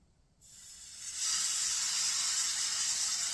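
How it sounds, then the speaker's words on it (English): After a brief quiet moment, a loud bright hiss of steak sizzling in a hot pan rises and holds steady, close and continuous. "put my steak in, and you're going to hear it sizzle"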